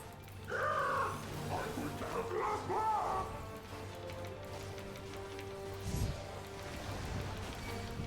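In Final Fantasy XIV, a large colibri bird gives a couple of raspy, wavering caws near the start, over rainy ambient game noise, with fainter calls after.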